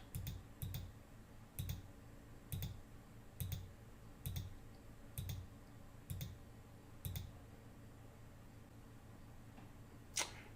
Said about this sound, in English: you're going to watch me click this thing 15 times